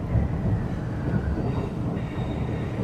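A train pulling into a platform at Eastleigh station, with a steady low rumble of wheels and carriage noise running throughout at moderate level, no voices.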